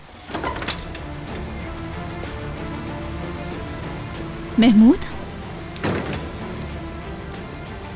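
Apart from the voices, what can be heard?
heavy rain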